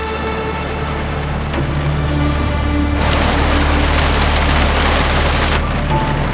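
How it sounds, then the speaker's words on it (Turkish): Heavy rain pours down in a dense, continuous hiss, growing even louder partway through, with a low steady rumble beneath it. "Çok yağmur yağıyor ıslanırım"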